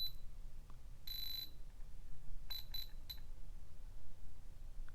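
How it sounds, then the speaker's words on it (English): A metal detector gives off its metal alert, a continuous buzzing tone heard in a few short bursts over a low steady hum, with no talking. "So metal alert, continuous buzzing sound."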